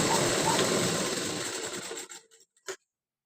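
A sewing machine stitches a blouse with a steady, fast mechanical whir for about two seconds, then slows and stops, followed by a short click.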